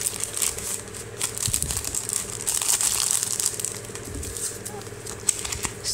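Packaging for a cheap TPU phone case for an LG Google Nexus 5X is opened, with steady close crinkling and rustling of paper and styrofoam plus scattered sharper crackles, no voice heard.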